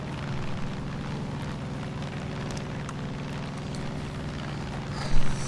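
Steady engine drone of an airplane flying in Far Cry 5, a continuous low hum held evenly throughout with a brief louder swell near the end.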